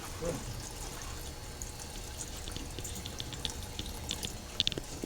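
Water poured by hand about half a cup at a time into a cone for starting, a steady soft trickle and splash close by with faint drips, no talk over it.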